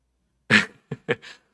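A single sharp cough followed by a couple of shorter coughs or throat sounds during a church sermon, close and isolated against silence.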